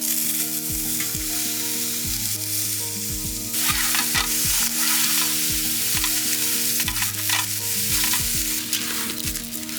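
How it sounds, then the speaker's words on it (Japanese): Soy sauce drizzled onto puffed, charred grilled mochi on a wood stove at a snowy winter campsite bursts into a loud, steady sizzle partway through, continuing over a low constant background hum. "醤油を垂らして"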